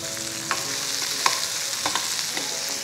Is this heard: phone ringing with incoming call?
no